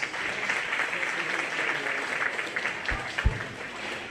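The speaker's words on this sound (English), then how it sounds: "Let's give Wilson a nice round of applause." An audience at a county fair pig show gives a round of applause, a moderate, fairly even crowd clapping heard from some distance, with a couple of low thumps near the end.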